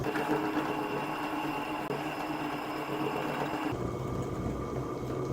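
A small DC motor spun as a generator at low RPM gives off a continuous whirring hum with a buzzy mechanical edge, steady and fairly close, changing tone abruptly near the end.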